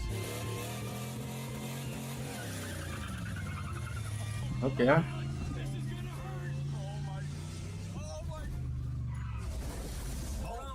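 A car out for a smooth cruise gives off a steady low engine drone throughout. A brief voice and a short rattling clatter break in near the middle.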